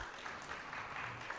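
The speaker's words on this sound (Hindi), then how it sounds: "एक बार जोरदार तालियों के साथ स्वागत करें।" Applause from a conference audience at the TV45 Conclave 2026 greeting an arriving guest, a steady, dense clatter of many hands lasting the whole short stretch with no talk over it.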